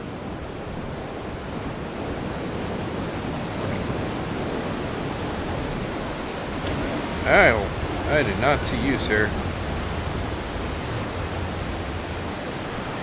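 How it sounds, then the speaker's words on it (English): Rushing waterfall in a cold mountain area of Ark: Survival Ascended on the Ragnarok map, a constant broad roar of falling water throughout, with someone briefly speaking over it midway. "you can't hear anything with the damn waterfall"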